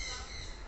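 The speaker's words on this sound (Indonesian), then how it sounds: "burung madu" A sunbird at Maharani Zoo Lamongan gives a brief burst of thin, high calls over a low background hum, fairly faint.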